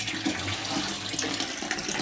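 Strong, steady rush of water from a shower tap in a campsite comfort room, a close, continuous hiss with no talk over it.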